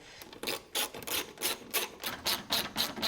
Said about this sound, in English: So I'm going to hand screw some of these in.